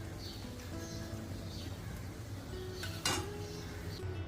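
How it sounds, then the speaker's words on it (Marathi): A spoon scrapes and clinks against a bowl and plate while upma is served, with soft repeated taps and one sharper clink near the end, all faint and close. "हा वाटीतला उपमा या प्लेटमध्ये काढून घेते"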